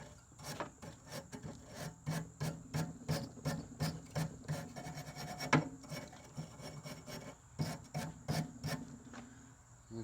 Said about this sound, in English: I need to bring my sandpaper out here with me.